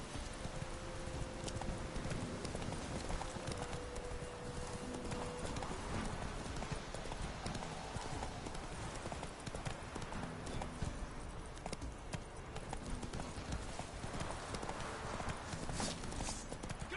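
Roach, a horse in The Witcher video game, clip-clops in a steady rhythm of hooves at a moderate distance over continuous ambient game noise, with no clear voices.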